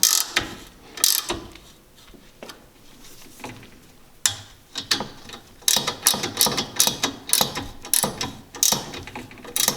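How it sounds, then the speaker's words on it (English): A ratchet wrench tightening nuts during a pedicab chain replacement, with close, crisp clicking in quick bursts that grow denser and more rapid toward the end. "And then we'll just tighten these nuts back down."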